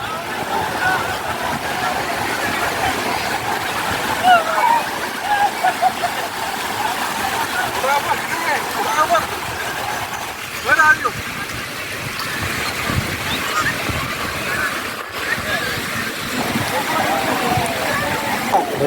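Seawater surges along the shore at Alibag as the tide rises, giving a steady, rushing wash with bubbling splashes, while a few people talk quietly in the background.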